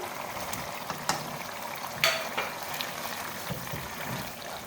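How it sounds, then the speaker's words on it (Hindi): Large chunks of potato frying with mutton in a pot of curry, giving a soft, continuous sizzle with occasional stirring knocks and bubbling, close and fairly quiet. "आलू मैंने शामिल कर दिए हैं। अब आलू शामिल करने के बाद हम मज़ीद भूनेंगे।"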